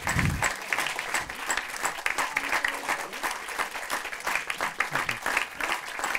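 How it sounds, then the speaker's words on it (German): A film-event audience gives director Aylin Tezel a steady round of applause, many hands clapping densely and continuously at close range with no break. "Ein Applaus, lieber Eileen."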